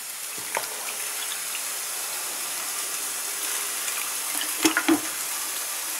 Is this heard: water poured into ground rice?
yes